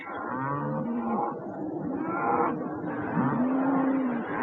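Dairy cows on a farm moo in long, low, drawn-out calls, several overlapping one another, loud and fairly close, with steady background noise and no speech.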